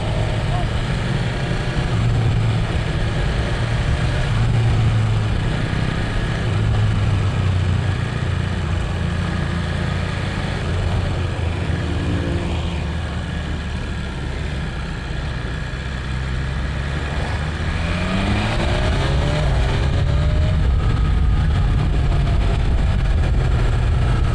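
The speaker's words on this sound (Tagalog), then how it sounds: "Noon yung hanggang 6k old rev pa lang nagagawa ko, ganyan siya kalakas." A new motorcycle engine runs loudly throughout, its tone rising as it revs up toward 6000 rpm near the end, with continuous low engine rumble.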